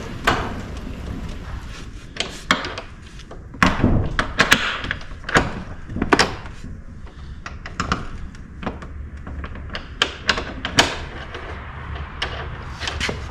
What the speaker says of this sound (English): let's adjust the door here